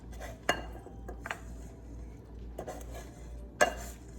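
Cooked bitter melon stuffing being transferred into a bowl, with a few sharp clinks of a utensil against the dish spaced apart over a quiet kitchen background.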